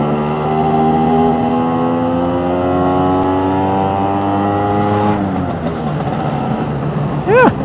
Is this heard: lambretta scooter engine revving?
yes